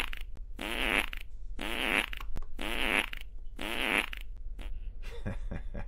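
A fart sound effect plays several times in a row, four long, buzzy, rippling blasts separated by short gaps, followed by a few shorter sputters, loud and close with no talking.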